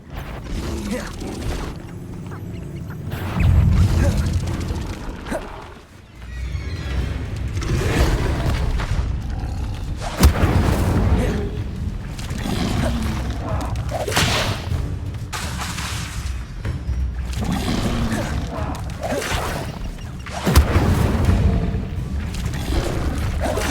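Incendio fire spell cast repeatedly in Hogwarts Legacy, a run of loud whooshing, booming bursts over dense game effects and music.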